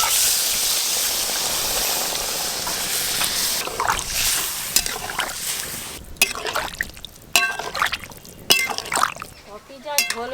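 Water pours steadily into a pan of spice-fried potatoes and ridge gourd, a close, continuous rushing splash that gives way to clinks and stirring.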